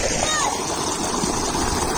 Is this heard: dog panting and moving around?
no